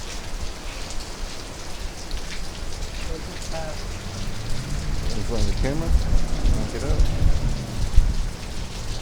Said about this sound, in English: So we're actually in that storm, like for real, for real.